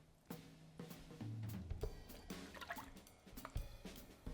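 A paper-making mold lifted straight up out of a tub of water and pulp, water dripping and trickling off it in a close, moderately quiet stream with scattered droplet taps.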